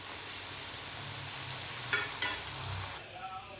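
Fried masala is lifted out of ghee in a kadhai with a metal strainer while making chicken qorma; a steady bright sizzle with a couple of quick metallic scrapes, the hiss dropping away near the end.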